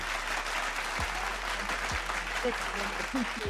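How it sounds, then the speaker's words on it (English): Studio audience applause during a music interview, a steady wash of clapping with a few faint voices murmuring underneath. "Round of applause for"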